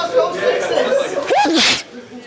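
A single sneeze bursts out amid light chatter and chuckling at a tabletop miniatures game table, close and fairly loud.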